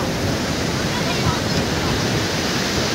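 Sea waves wash over the sand on a Goa beach in a continuous, close, loud rushing roar that barely changes in level and hides most other sound.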